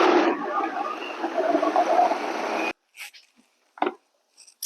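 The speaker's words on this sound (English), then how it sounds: "And let's blend it all." A blender whirs loudly for under three seconds, blending roasted butternut squash, acorn squash and carrot hummus, then stops abruptly, followed by a few faint clicks and clunks.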